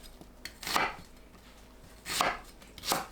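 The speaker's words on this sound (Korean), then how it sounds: "양파를 큼직하게 썰어주세요." Knife chopping onion into large chunks on a board, three distinct thuds with an irregular gap, close and moderately loud over a quiet background, no voices.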